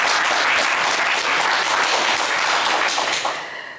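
Studio audience on a French television game show breaks into loud, sustained applause, a dense wash of clapping that holds steady for several seconds before starting to taper off at the end.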